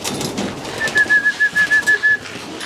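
Racing pigeons in a loft, a blue bar and a blue-white flight among them, coo in a quick run of about seven soft pulses in mid-clip, close by, over faint background noise and with no talk.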